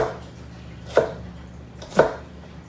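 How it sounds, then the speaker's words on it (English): A chef knife dicing onion strikes the cutting board twice, about a second apart, each a clear, close thud over a low background hum. "Right now I'm dicing the onion small"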